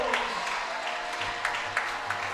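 A homecoming crowd at a high school football game between Merrillville and Michigan City cheers and applauds as the team takes the field, a steady wash of clapping and crowd noise with a commentator's voice over it.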